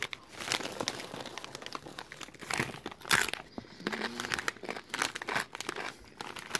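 Doritos Dinamita Chile Limon rolled tortilla chips crunch under close bites and chewing, with crinkly bursts of crackle.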